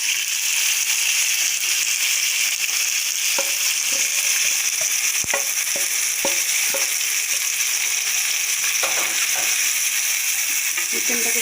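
Chicken frying in a pan while being stirred, a loud, steady sizzle punctuated by scattered scraping and knocking of the utensil against the pan.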